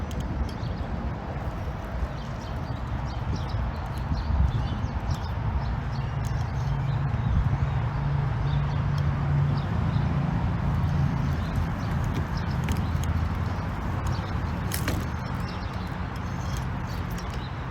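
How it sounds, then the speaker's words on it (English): A steady, broad roar of interstate highway traffic rumbles without pause, heard outdoors from a nearby campground, with faint birds now and then. "You can see it's right on the interstate, quite a bit of noise."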